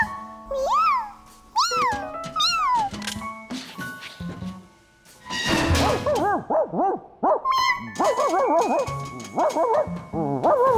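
Cartoon dog barking in Curious George: a run of yips, barks and whining, yelping calls that rise and fall in pitch, loud and close, in bursts with short pauses and some layered character vocal sounds.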